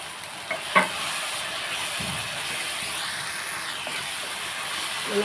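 Chana dal sizzles and fries steadily in hot oil, a continuous close hiss with a few sharp scraping stirs near the start.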